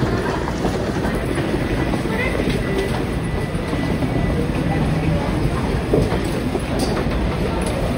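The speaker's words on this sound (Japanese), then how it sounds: "ちょうどね手前に止まっているのでこっち方面から入線してきますね" A Kintetsu Hinotori limited express train pulls into a station platform, its steady rumble and wheel clatter filling the scene, with station ambience and a faint voice in the background.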